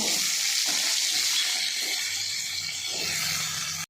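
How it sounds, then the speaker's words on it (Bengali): Potatoes and drumstick stalks fry in hot oil tempered with cumin, dried chilli and bay leaf, giving a continuous close sizzle with a few stirring clinks, then cutting off abruptly. "জিরে, লঙ্কা, তেজপাতা ফোড়ন দিয়ে আলু আর ডাঁটাগুলো ভেজে নেব।"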